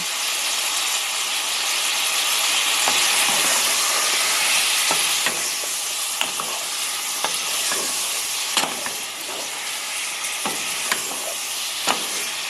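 Vietnamese chicken ragu sizzles steadily in a pan, a constant frying hiss broken by occasional stirring scrapes, close and fairly loud with no talk.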